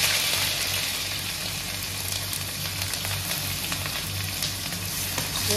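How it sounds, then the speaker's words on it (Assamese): Steady, moderate sizzle of onions frying in mustard oil with bay leaves and dried chillies, a continuous crackling hiss with faint stirring underneath. "পিঁয়াজখিনি অলপ ভাজি ল'ম ৰঙচুৱা হোৱালৈকে।"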